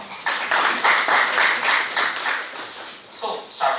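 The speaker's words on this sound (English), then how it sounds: "Let's have a round of applause for him." An audience applauds at an IT industry panel discussion, a few seconds of moderately loud clapping that swells and then tapers, with speech-like sound mixed in.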